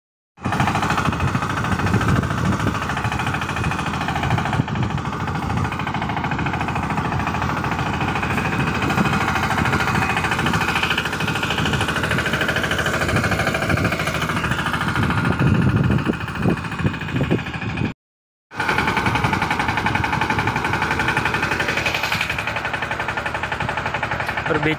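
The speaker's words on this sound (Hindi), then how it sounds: "अभी देखो कल्टीवेटर चला रहे हैं ना" A tractor pulling a cultivator through a field chugs with a loud, steady rattling engine drone across the whole stretch, briefly cut out once near the end before resuming just as strong.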